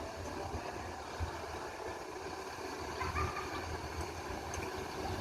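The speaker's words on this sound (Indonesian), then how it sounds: "Bus Gumeran Jaya ini akan berangkat menuju Pulau Jawa" A Gumeran Jaya intercity bus idles at a bus terminal before departing for Java, a faint, steady low engine hum with a soft mechanical drone and no obvious talk.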